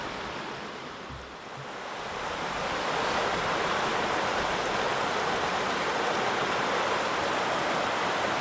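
Billy Creek running full right after rain, a dense, continuous rushing roar of fast water that swells slightly after the first couple of seconds and holds steady, close and loud with no voices.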